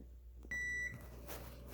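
A kitchen oven timer sounds one clear electronic beep, steady and held for about half a second, followed by faint room noise and small household clatter.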